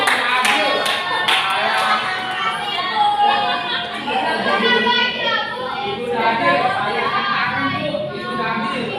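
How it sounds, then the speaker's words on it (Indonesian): A classroom of children claps together in a lively burst, with excited chatter continuing around and after the applause. "Tepuk tangan dulu untuk"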